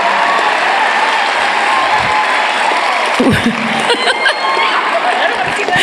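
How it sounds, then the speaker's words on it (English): A live podcast audience at a My Favorite Murder show claps in a dense, loud, continuous wash, with a few sharper claps and faint cheers standing out near the end. "Here are the people that are clapping."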